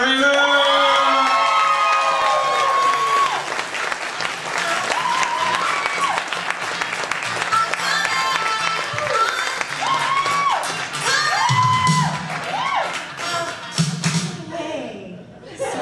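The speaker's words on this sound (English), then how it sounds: "Please give a warm round of applause for the very funny Amanda Raymond!" A comedy club audience gives a stand-up comic a loud welcome, with sustained clapping, cheers and high whoops rising over the crowd before the noise tapers off at the end.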